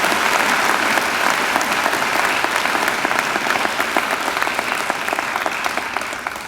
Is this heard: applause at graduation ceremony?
yes